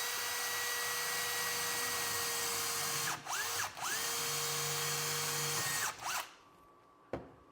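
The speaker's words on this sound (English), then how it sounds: "Drill our hole" A power drill bores a hole in a cabinet door for a knob, its motor whining steadily with two brief stops and restarts, then a final short burst as the bit finishes and the room goes quiet.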